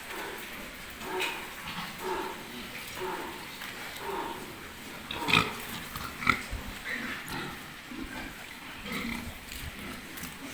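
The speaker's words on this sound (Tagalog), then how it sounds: "Mga tulog ang mga baboy ko." Pigs sleep in their pen, giving soft grunts and snuffling breaths at low volume, with a couple of slightly louder snorts partway through.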